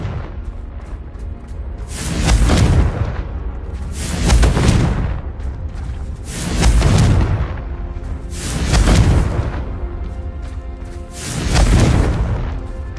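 Confringo blasting spells from Hogwarts Legacy burst five times at regular intervals, each a loud, swelling whoosh-boom that rolls off into a rumbling tail.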